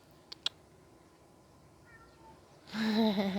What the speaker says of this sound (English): He's gonna meow at me, I bet.